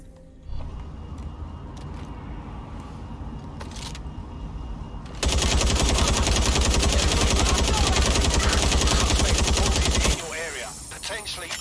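Pistol gunfire in Watch Dogs: Legion, a dense burst of rapid shots filling several seconds amid game ambience, loud and close.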